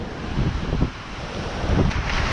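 Stormy sea waves surge against the seawall at Blackpool in a rough, continuous wash, with strong wind buffeting the microphone and a few heavier swells rising through the roar.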